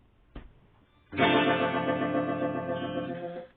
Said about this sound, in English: Vibrato on this is actually quite nice.